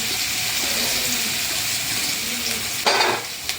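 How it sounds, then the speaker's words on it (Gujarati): Chopped onion and green chili sizzle steadily in hot ghee with curry leaves, giving off a bright, close frying hiss with a brief louder spatter near the end. "ને એની અંદર આપણે ડુંગળી ને લીલું મરચું સુધારેલું નાખી દઈશું."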